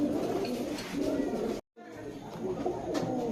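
Giribaz high-flyer pigeons cooing up close, soft repeated low coos over a murmur of background chatter, broken by a split-second dropout in the middle.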